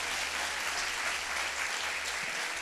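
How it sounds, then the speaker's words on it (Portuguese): Steady, dense applause from a church congregation during a midweek worship service, sustained and even throughout with no clear speech over it. "Ofereça uma oferta de aplausos a Ele"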